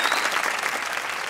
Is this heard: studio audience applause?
yes